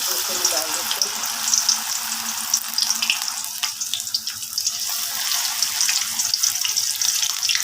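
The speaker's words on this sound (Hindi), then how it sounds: "एक पकौड़ा हम डाल के देखते हैं, ऑयल हमारा सही से गर्म हुआ है कि नहीं।" Spinach pakoras fry in hot oil, giving a continuous bright sizzle with fine crackling and popping that stays close and fairly loud throughout, with occasional faint talk underneath.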